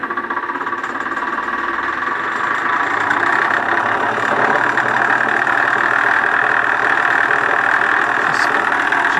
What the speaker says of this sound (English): When I power it from the motor, it sort of makes a bit of noise, but it still nevertheless works, and the belt stays in place.